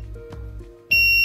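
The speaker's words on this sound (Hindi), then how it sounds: "जब टाइम ख़त्म होने को आता है यानी कि 2 सेकंड रिमेन होते हैं, बजर का बीप देता है" A solar-powered EV charging station's buzzer sounds a sustained electronic beep as a charging session ends, loud and steady over a low electrical hum.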